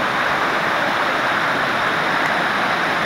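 A waterfall pours in a steady, loud, unbroken roar of rushing water, heard up close on a hot sunny day in a wooded nature spot.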